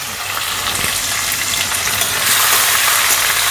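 Curry leaves and chopped green chilies hit hot tempering oil already crackling with cumin and mustard seeds for shevaya upma, producing a loud, steady, hissing sizzle that swells slightly toward the end, with no talking.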